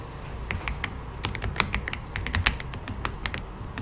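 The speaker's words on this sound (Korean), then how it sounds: "키보드에서 컨트롤 키를 누르고 있는 상태에서 컨트롤 누르고 있어요" Keys on a computer keyboard click rapidly and irregularly as keys are pressed with Ctrl held, close and crisp, with no voices.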